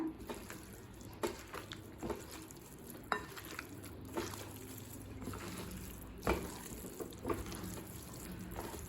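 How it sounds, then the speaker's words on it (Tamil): Chicken pakoda batter of gram flour, rice flour, onion and egg white, made without water, being mixed by hand: soft, faint wet stirring and squishing with a steady pulse of light slaps about once a second, no voices. "இப்போ இது எல்லாத்தையும் நல்லா மிக்ஸ் பண்ணிக்கலாம்."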